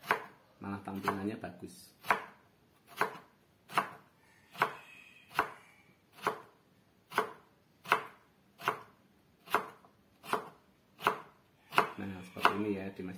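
A knife slices potatoes into thin strips on a cutting board, with about a dozen crisp, evenly spaced chops close up and a voice speaking briefly between cuts.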